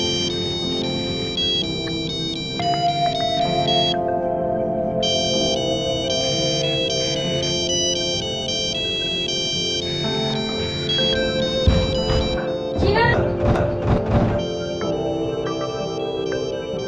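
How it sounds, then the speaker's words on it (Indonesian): Mobile phone ringtone for an incoming call plays a loud repeating melodic electronic tune for about seventeen seconds, with a brief burst of rustling handling noise near the end. "tiba-tiba ada telepon masuk."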